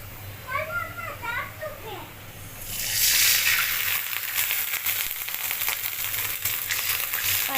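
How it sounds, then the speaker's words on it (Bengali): After a few seconds of children's voices in the background, water is poured onto fried onions in a hot pan for a cauliflower and tengra fish curry, setting off a loud, sustained hiss that stays steady to the end. "দেখুন আমার পেঁয়াজটা ভাজা হয়ে গিয়েছে। এবার দিয়ে দিব পানি।"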